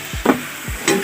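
Chicken pieces frying in plenty of oil in a pan, stirred twice with short scraping sweeps over a continuous bubbling sizzle, close and loud, with no one talking.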